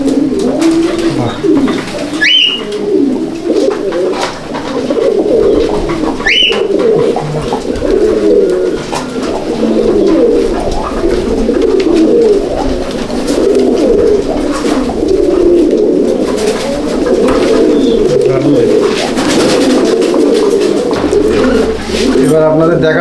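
Silver Siraj fancy pigeons in a loft, a dense continuous chorus of soft throaty cooing from many birds close by, with someone speaking now and then over it and a couple of brief sharper calls.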